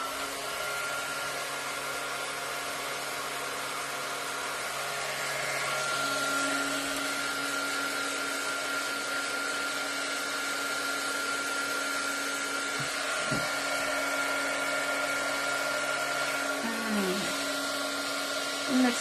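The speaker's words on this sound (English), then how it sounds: "I'm now going to use my other heat tool because I think this one doesn't really suffice for embossing powder, so this one is going to make a bit more noise" A heat tool for melting embossing powder whirs continuously at close range, a steady fan-like drone with tonal hum that shifts pitch slightly midway, running alone for the whole stretch.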